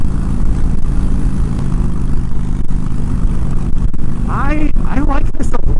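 Honda Shadow motorcycle built as a raked chopper-style bobber, its engine droning steadily and loudly throughout while riding, with a brief voice near the end.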